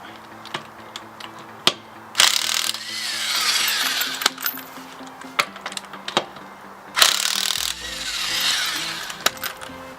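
A power tool loosens lug nuts during front brake work on a Nissan Xterra, with two loud rattling bursts of hammering against a steady mechanical hum, along with sharp clicks and clanks between them and no talking.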